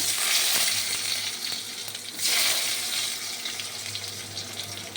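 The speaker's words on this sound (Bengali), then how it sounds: "তেল গরম হয়ে গেছে, ওই তেলের মধ্যে আমি কালো জিরে দিলাম" Nigella seeds hit hot oil in a pan for a Bengali bata fish curry, giving a dense, continuous crackling sizzle up close that swells briefly midway, with faint stirring underneath.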